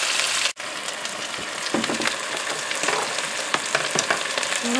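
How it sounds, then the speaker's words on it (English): Chicken pieces brown in a slow cooker multi-cooker, giving a steady close sizzle with crackling pops and a brief drop near the start, no voices over it. "Alright, we're getting a nice sizzle here"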